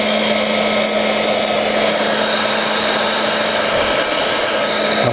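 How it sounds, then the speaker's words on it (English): A heat gun blows steadily on joints of a Nitroplanes Falcon 25 EDF model airplane during its build, a loud, continuous hot-air roar with a faint fan hum that holds unchanged throughout. "I'm gonna go ahead and put my heat gun in here a little bit more"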